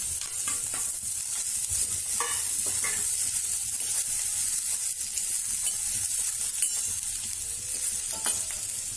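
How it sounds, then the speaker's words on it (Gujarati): Grated potato goes into a frying pan with chillies, curry leaves and sesame seeds and is stirred, giving a loud, close, continuous sizzle broken by scraping spatula strokes, with no talk. "હવે બટેટાના ખમણને ઉમેરી દેશું"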